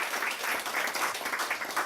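Applause breaks out at a Korean gospel broadcast church service, honoring everyone taking part. Dense, steady clapping from a sizable congregation fills the room throughout, even and sustained without a clear break.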